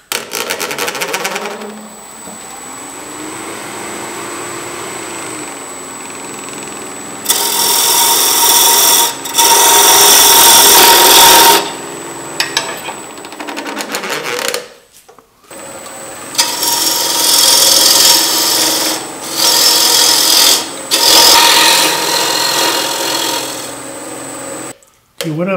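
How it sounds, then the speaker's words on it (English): A half-inch bowl gouge cuts a cherry wood bowl spinning on a lathe, giving loud, harsh scraping bursts of several seconds each, broken by short pauses, over a steady motor hum. "So I'm taking a half-inch bowl gouge."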